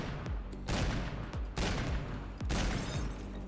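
In Garry's Mod, a frozen object shatters into ice shards, producing three loud, close crashing bursts in quick succession, each with a noisy, crackling tail.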